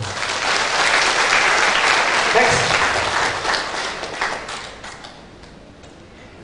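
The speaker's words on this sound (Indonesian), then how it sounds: "Tepuk tangan untuk kita semua." An audience at a dharma talk applauds, a dense wash of clapping that holds steady for several seconds and then fades. A voice speaks briefly over it.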